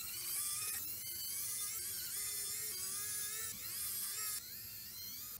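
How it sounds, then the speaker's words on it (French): An electric screwdriver with a tri-wing bit backs out the six rear screws of a Game Boy Color shell, making a steady high motor whine close by that briefly breaks off and restarts between screws, with no speech. "je vais utiliser mon tournevis électrique comme d'habitude, avec mon embout TruWing, et on démonte les 6 vis qui se trouvent à l'arrière de la console"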